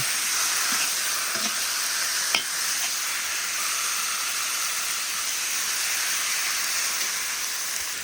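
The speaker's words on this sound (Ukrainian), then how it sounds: "додаємо біле м'ясо і смажуємо нього до золотого кольору" Continuous crackling sizzle of white meat frying in a cauldron over a campfire, with occasional clicks and taps of a stirring utensil.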